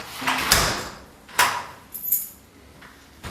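A deadbolt lock on a door is worked against the jamb, with a few sharp metallic clicks and clunks separated by short pauses, close and fairly quiet.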